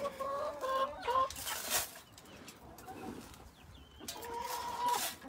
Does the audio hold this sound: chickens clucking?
yes